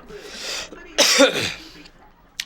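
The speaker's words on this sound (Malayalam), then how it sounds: "ചുമയാണ് നല്ല ചുമയാണ്" A couple of harsh, close coughs, one short then a stronger burst, followed by a quiet pause and a faint click.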